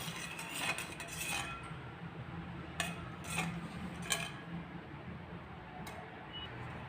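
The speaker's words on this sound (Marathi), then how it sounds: "आता आपण याला व्यवस्थित असं मिक्स करून घेणार आहोत" Buttermilk being stirred with roasted cumin powder in a bowl, a spoon giving repeated light clinks and taps against the sides over a soft steady background, with no talking.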